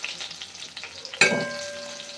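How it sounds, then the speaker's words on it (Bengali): Potatoes frying in hot oil with a steady sizzle. A sharp metallic clang from a utensil lands midway through, and the hiss continues afterward, close and with no voices. "আলুগুলো লাল লাল করে ভেজে নিতে হবে"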